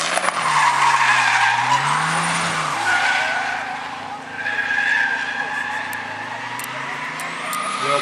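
A drift car skidding at a drifting competition in Bivaröd, a loud sustained tire squeal over a roaring, shifting engine, with the crowd and a commentator's voice underneath.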